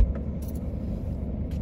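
Steady low road rumble fills the cabin of a car driving in Atlanta, with a few faint clicks and no talking.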